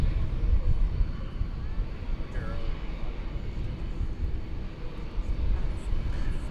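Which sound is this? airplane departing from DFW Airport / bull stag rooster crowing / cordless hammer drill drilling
airplane departing from DFW Airport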